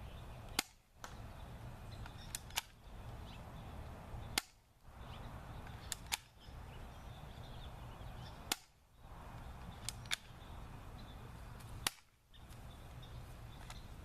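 An airsoft spring gun fires repeatedly until the magazine is empty: sharp, close single cracks spaced a second or two apart, each followed by a brief mechanical click, over quiet outdoor background.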